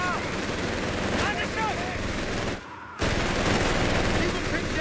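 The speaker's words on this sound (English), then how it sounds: "these rifles just bleeding to the MG42" An MG42 machine gun fires in Company of Heroes 3 as rapid, continuous bursts of gunfire under dense battle noise and faint whistling, briefly cutting out before resuming.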